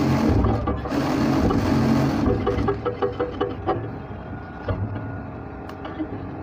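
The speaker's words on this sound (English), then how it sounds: "So I will also run double stitch on this point, just as I have explained before." Sewing machine running a double stitch along a trouser side seam, a loud continuous whir at first that breaks into shorter bursts of rapid stitching, up close.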